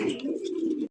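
Bombay pigeons, a breeding pair, give a short low throaty coo close by, a single soft rolling call with no talking.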